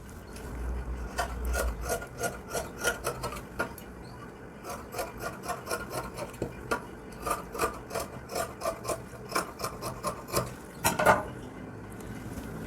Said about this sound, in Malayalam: ഇനി ഇത് കട്ട് ചെയ്തെടുക്കാം.